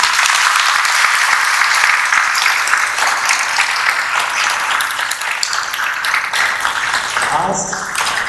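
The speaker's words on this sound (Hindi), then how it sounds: "एक बार ताली बजा लो।" An audience claps at a yoga gathering held for the Teej festival in Ghaziabad. The dense, sustained applause runs continuously for several seconds, loud and even, with some voices mixed in.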